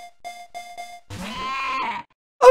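Sheep Pokémon cry in the Pokémon Uranium video game: a wavering synthetic bleat lasting about a second, preceded by short chiming game tones and followed by an abrupt burst of game sound.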